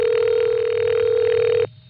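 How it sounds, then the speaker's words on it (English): A ringing machine from a No. 5 crossbar telephone exchange emits a steady, loud tone with a hum beneath, holding evenly for over a second and a half before cutting off abruptly into near silence. "And this is the kind of ringing machine they were installing in the late 60s and 70s as well."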